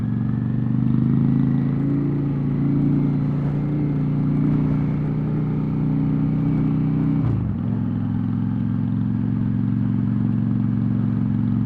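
A bobber motorcycle engine drones steadily while riding, a loud, close, even rumble with a brief dip in pitch midway before settling back into a constant hum.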